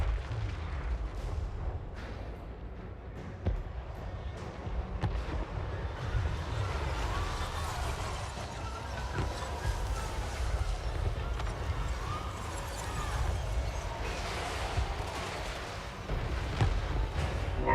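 Chaos Dwarf flame cannons fire during a Total War: Warhammer 3 battle. Dense, rumbling blasts and booms overlap continuously with the clatter and din of a large fight, loud and sustained throughout.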